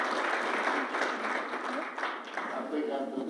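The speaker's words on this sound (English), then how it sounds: "Give a round of applause to these historians here" Audience applause at an evening museum event on Rosenwald Schools and Black education, a dense steady clapping wash filling the room throughout, with voices audible beneath it.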